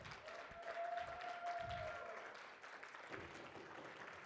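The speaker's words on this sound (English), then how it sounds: "Everybody give a big round of applause." Applause from an audience at a campus talk at Penn State, a fairly quiet, distant patter of clapping that tapers off toward the end, with a faint tone running under it early on.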